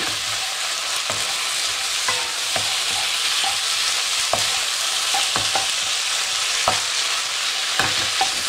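Chicken and ginger stir fry with soy and oyster sauce being stirred in a hot pan, a steady bright sizzle with scattered clicks and scrapes of the utensil through the mixture, close and continuous.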